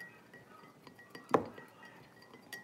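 A spoon mixing in a child's cup gives one bright, sharp clink of glass or ceramic, close and fairly loud against a quiet room, with a fainter tap near the end.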